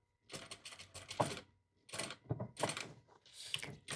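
A sewing machine stitches along a marked line on fabric, running faintly in three short bursts of rapid mechanical clatter with brief pauses between them.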